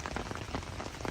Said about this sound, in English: Rain all night, some crazy storms.